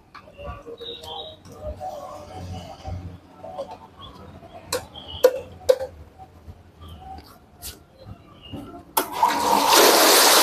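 A modified water pump fitted with an L elbow suddenly bursts into a loud, steady, forceful spray of water near the end, after a stretch of quieter clatter and faint bird calls.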